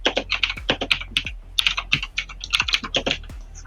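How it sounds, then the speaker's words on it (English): Rapid bursts of key clacks from someone typing a message on a computer keyboard, close and crisp, with uneven rhythm and short pauses between runs of keystrokes, no voices. "I was just typing you a message"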